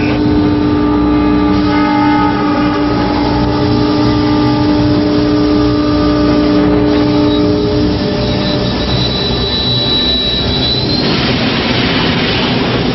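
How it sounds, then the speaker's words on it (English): A train halted automatically by an anti-collision device on a railway track, loud metallic wheel squeal with sustained ringing tones and rumbling rail noise throughout, shifting pitch as it comes to a stop. "The ACD automatically stopped the train."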